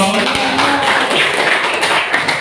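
A classroom group of students claps together, a dense run of hand claps at close range filling the whole stretch, with some voices underneath.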